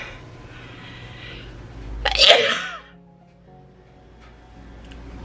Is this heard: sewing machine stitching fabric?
no